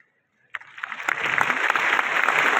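After a brief silent start, an audience at a university youth day event breaks into applause welcoming a minister, the clapping building quickly and staying loud and steady.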